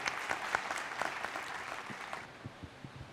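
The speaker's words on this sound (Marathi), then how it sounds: "थँक्यू सो मच जोरदार टाळ्या व्हायला पाहिजेत" An audience at a Marathi theatre and film award ceremony claps in a brief burst of applause that fades out within a few seconds, leaving a few scattered claps at the end.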